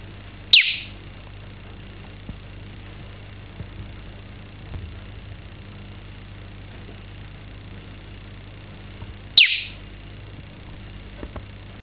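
Two sharp, high chirps from geckos calling to each other, spaced several seconds apart, loud and close, over a quiet low hum.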